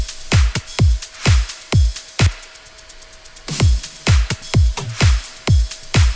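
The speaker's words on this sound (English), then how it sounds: "it's just a simple shaker loop I've created. And it sounds like this on top of the drums." Electronic dance drum loop from a remix remake, with a simple shaker pattern layered over punchy kicks and claps; steady four-on-the-floor rhythm, loud and close, with a short break where only the ticking shaker continues.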